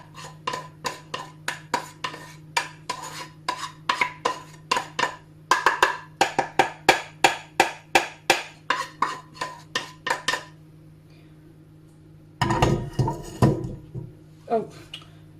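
Spoon clatters and scrapes in quick rhythmic strokes against a pot while lemon juice, salt and pepper are stirred into salmon and rice, pausing briefly before a louder rush of clattering near the end.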